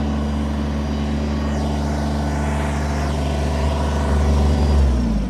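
Kubota BX23S compact tractor from 2020 with its engine running steadily, a loud continuous low drone that swells slightly near the end as the throttle shifts.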